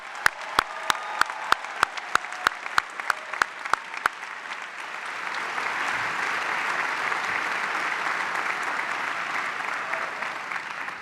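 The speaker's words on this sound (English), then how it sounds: "More clapping." A graduation ceremony crowd of graduate school graduates and guests applauding. It opens with a dozen sharp, evenly spaced loud claps, then swells into broad, sustained applause that carries on steadily to the end.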